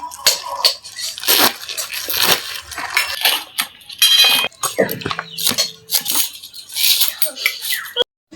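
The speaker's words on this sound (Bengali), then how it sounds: "এই যে বাঁধাকপিটা কেটে নিচ্ছি।" A knife chops through cabbage on a board in a home kitchen, with irregular crunchy cuts and scraping amid clatter and someone speaking intermittently.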